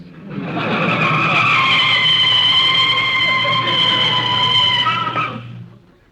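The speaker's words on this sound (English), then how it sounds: "You can start putting on the brakes." A car brakes hard to a stop with a long, loud tire skid squeal lasting several seconds, heard through a tinny radio-style filter before fading out.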